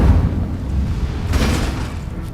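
A close-range Incendio fire spell blasts in a wizard video game, a loud dense boom at the start that rolls on into a rumbling wash, with a second bright burst flaring midway through.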